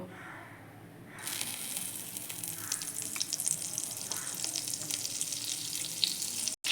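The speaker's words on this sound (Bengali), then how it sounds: "এখন আমি কড়াইতে বাটার দেব।" Butter hits a hot kadai already coated with white oil and bursts into a loud, steady sizzle after a brief quiet start, with crackling spatters continuing close by to the end.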